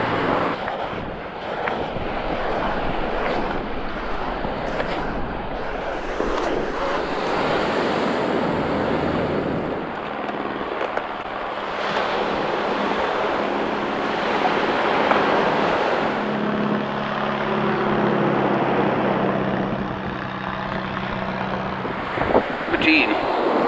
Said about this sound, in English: This is the second boardwalk entrance to the beach.